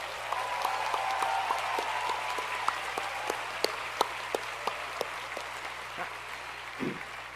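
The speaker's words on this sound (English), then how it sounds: "could we have a round of applause for all of the mother traditions?" Audience applause at the 2018 RSPH commencement ceremony honoring mothers, a steady dense wash of clapping with a few sharper individual claps standing out near the end, no talking.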